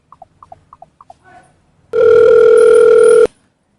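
A telephone gives a quick series of paired electronic beeps, then a loud, steady tone that holds for over a second before cutting off.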